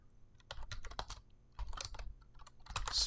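Computer keyboard typing in short bursts of quick clacking keystrokes, entering commands at a command line for an Angular CLI project; fairly close and clear, with pauses between bursts and no talking.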